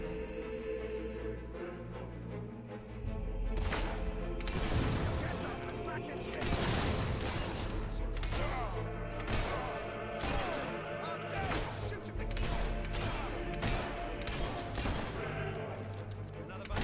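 Gunfire in the Fable 3 video game, a dense, loud run of repeated shots and bangs over a constant rumble, with battle noise throughout.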